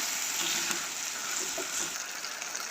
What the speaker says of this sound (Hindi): अब इनको मिक्स करती हूँ और 2-3 मिनट इनकी फ्राई करती हूँ।